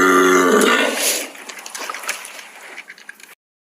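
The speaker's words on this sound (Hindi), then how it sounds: "सांड की डकार" A loud, deep bull bellow opens, then fades into softer sloshing, gurgling sounds that trail off before silence.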